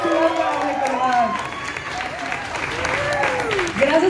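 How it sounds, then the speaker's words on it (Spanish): Applause fills the room at a press conference for the Coco festival, steady crowd clapping that swells slightly toward the end while voices carry over it. "Un aplauso para recordar"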